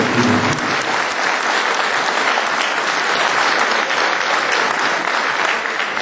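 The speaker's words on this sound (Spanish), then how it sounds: "Ese aplauso es para ustedes" An audience at a forum on the Mexican electricity industry bursts into applause, a loud, continuous wash of many clapping hands sustained evenly from start to finish with no voices above it.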